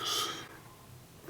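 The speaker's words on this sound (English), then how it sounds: "Speed sniff for me." A single quick, sharp sniff through the nose, brief and close, followed by faint breathy quiet.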